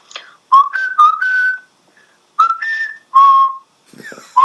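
A clear, tuneful whistled melody in several short phrases with brief pauses between them, close and fairly loud, no talking.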